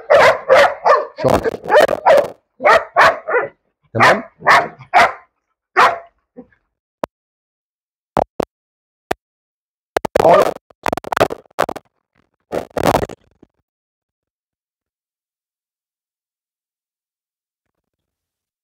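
Newly arrived Malinois and German Shepherd dogs bark loudly and close by in rapid repeated bursts, with sparse barks and a brief spoken word between them, then silence for the last several seconds.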